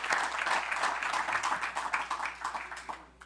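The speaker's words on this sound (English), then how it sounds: "Let's give a round of applause for our All-Stars on the Torrance Little League." An audience at a city council meeting in Torrance applauds its Little League All-Stars, steady clapping from a roomful of people that tapers slightly toward the end.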